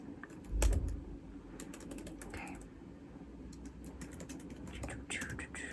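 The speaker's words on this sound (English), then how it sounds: "What would you like me to type?" Typing on a computer keyboard with soft, close clicks in uneven bursts after a low thump, under quiet whispered talk in an intimate ASMR-style setting.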